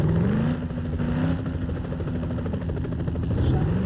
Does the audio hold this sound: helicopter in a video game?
yes